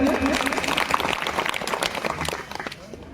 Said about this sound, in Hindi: इन बच्चों के लिए एक बार जोरदार तालियां बजा दीजिए